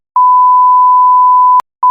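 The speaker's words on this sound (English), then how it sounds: "So we're gonna have to beep that out though." A steady pure-tone censor beep runs for about a second and a half, then cuts off, with a brief blip before it and another short beep starting at the end; no talking over it.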